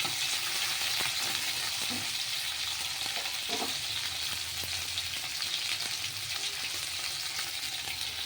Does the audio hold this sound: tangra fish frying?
yes